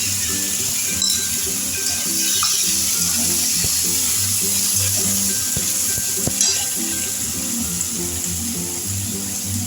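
Chopped tomato hits hot oil already holding fried green chilli for a spring onion bharta, giving a steady loud sizzle broken by the scrape and clatter of stirring, with a low constant hum underneath.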